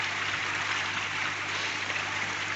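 Water splashes down steadily through a pond filter trickle shower and filter bath, a continuous close, dense hiss of falling water with no pauses.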